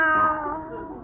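A cat gives a single drawn-out meow as a radio show sound effect, close and clear, its tone falling and fading over about a second.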